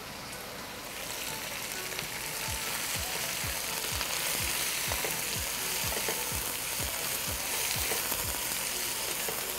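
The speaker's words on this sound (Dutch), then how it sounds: "Gewoon even op hoog vuur wokken." Vegetables stir-fried in a wok over high heat, a continuous bright sizzle broken by regular scraping strokes of stirring, growing slightly louder after the first couple of seconds.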